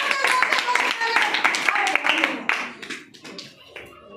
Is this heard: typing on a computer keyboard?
no